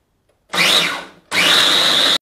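A food processor chops chickpeas for falafel in two loud whirring pulses, one short and one longer, with a high motor whine and a clean stop between bursts. No talking.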